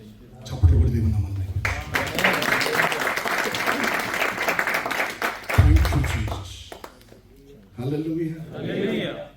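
Congregation applauding inside a Telugu Christian evangelical church in Dubai, sustained dense clapping for several seconds, with a preacher's voice talking over it near the start and again at the end.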